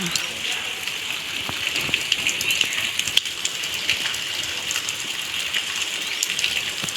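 Water gushes straight down from a broken overhead pipe during a rainy spell in a village, a steady rushing hiss that holds level throughout.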